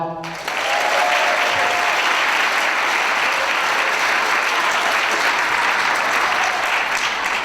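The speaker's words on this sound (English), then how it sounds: "can you applaud?" An audience at a VIP Day event breaks into loud, sustained applause after a short voice at the start, the clapping rising quickly and holding as a full, even roar.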